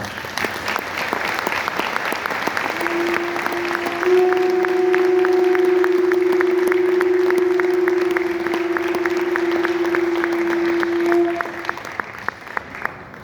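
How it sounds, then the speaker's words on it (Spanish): Audience applause at a ceremony honoring a Tepantlatoani, steady clapping throughout with a long sustained tone, likely a conch or whistle, sounding over it, then thinning to scattered claps at the end. "Pido un aplauso en especial a nuestro Tepantlatoani, el maestro Enrique González"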